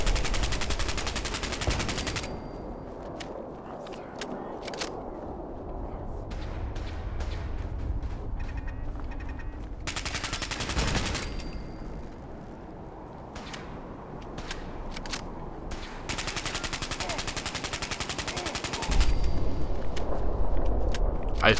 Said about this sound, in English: And I'm still getting shot. In multiple directions.